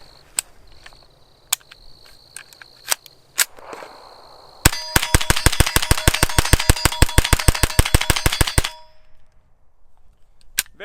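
Rapid-fire gunshots from a rifle fitted with a CMMG .22LR Bravo conversion kit: a few scattered single cracks, then a fast, loud string of about twenty evenly spaced shots with metallic ringing, ending abruptly.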